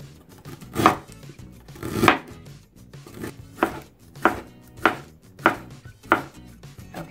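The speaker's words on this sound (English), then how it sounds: "So we don't need a lot of ginger. I'm just going to cut off a small chunk like this," A knife chops ginger on a cutting board in a run of about nine distinct, close thuds at a fairly steady, unhurried pace.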